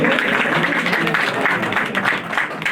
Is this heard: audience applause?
yes